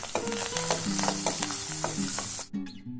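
Onion, green chili, garlic and curry leaves sautéing in hot oil, a loud close sizzle with scraping stirs and clattering spatula strokes, broken by a brief dip near the end.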